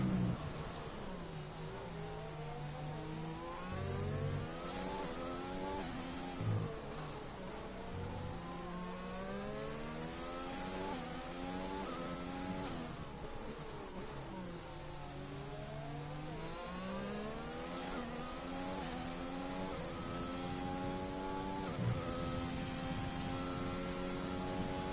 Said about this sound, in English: The two Racing Point cars begin their final lap.